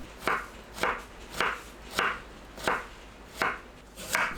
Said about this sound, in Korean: 애호박은 양끝을 자르고 채 썰어줍니다.